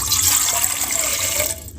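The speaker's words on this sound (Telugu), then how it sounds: "ఇప్పుడు స్టవ్ మీద ఒక బౌల్ పెట్టి దాంట్లో 2 కప్స్ వాటర్ పోసుకోవాలి" Water rushes steadily into a bowl set on a kitchen stove, about two cups poured for ragi malt, a continuous close splashing hiss that stops near the end, with no speech.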